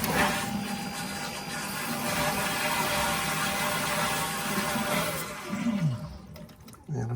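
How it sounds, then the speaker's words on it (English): A leaking toilet flushes with a loud, steady rush and hiss of water and a mechanical whir, sustained for several seconds before tapering off into gurgling near the end. "So let's go ahead and try an actual wet flush."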